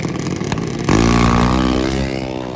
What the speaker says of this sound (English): These are the sounds coming from a drag car